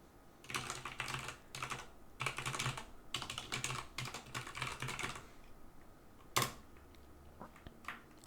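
Password being typed on a computer keyboard: several quick bursts of close, crisp key clicks separated by short pauses, then a few isolated louder keystrokes near the end.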